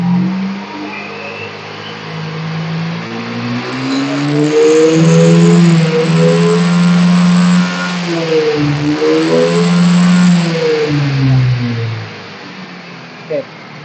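A Yamaha Xeon carburetor scooter engine is revved hard to full throttle, climbing to a sustained high whine and then dropping back. It is close and loud, with people talking during it.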